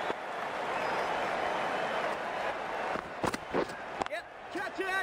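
An excited crowd roars at a cricket match in the Dream11 IPL video game, a loud sustained cheer, then a few sharp bat and crowd bursts near the end.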